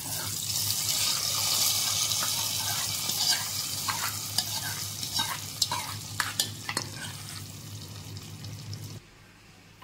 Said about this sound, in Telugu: పోపు ఇప్పుడు పప్పులో వేసేసుకుందాం.